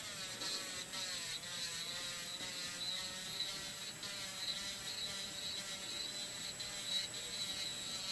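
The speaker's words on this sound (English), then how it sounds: "the speed of my efile is actually really low" An electric nail file runs at low speed during nail prep, giving a steady, thin mechanical whir with faint rattling, constant and close throughout with no talk.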